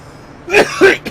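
Two quick, harsh coughs close to the microphone, one right after the other, ending with a short catch of breath.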